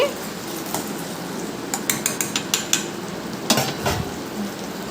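Prawns and tomato pieces stirred in a cooking pan: a soft frying hiss underneath a series of sharp clicking scrapes of a spoon against the pan, clustered in quick taps mid-way.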